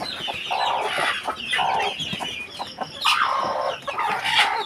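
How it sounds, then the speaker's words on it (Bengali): Native desi chickens on a home poultry farm cluck and squawk in repeated close, loud bursts, several birds calling over one another with no speech. "ছোটাছুটি করছে মুরগিগুলা।"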